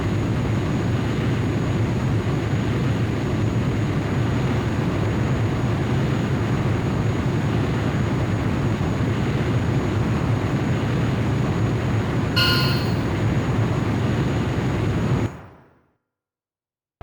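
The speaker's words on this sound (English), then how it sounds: "Antares, you're clear for takeoff." Fighter jet engine roaring steadily at takeoff in the PSP game Ace Combat: Joint Assault, a loud continuous rumble with a brief higher tone near the end before cutting to silence.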